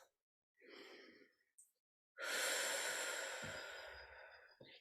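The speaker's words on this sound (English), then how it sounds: "So just taking a few deep breaths." Slow, deep breathing with a long drawn-in breath followed by a fuller, louder exhale through the mouth, close and quiet with a brief pause in between; no talking.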